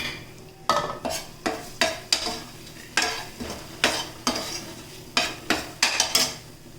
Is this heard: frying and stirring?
yes